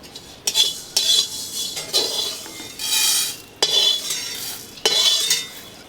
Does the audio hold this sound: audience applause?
no